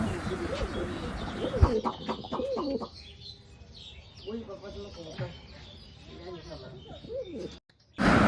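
Local pigeons on a rooftop coo in soft, repeated bursts close by, with a brief flutter of wings and some quieter stretches between calls.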